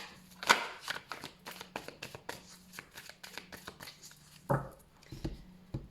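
A deck of tarot cards is cut and shuffled by hand, giving a quick run of crisp riffling flicks and soft card slaps that are close and fairly loud, with no talking.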